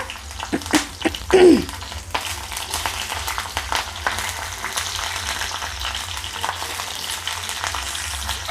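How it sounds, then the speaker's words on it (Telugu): Green chillies hiss and sizzle as they hit hot oil for radish chutney, with a brief sharp crackle and steady frying under occasional stirring clatter. "ఆయిల్ కాయిందండి ఇప్పుడు పచ్చిమిరపకాయలు వేస్తున్నా"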